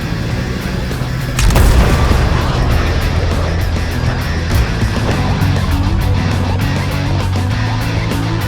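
A grenade explosion at an awards show skit lands as a sudden loud boom followed by a rumbling, crackling roar that lingers for several seconds.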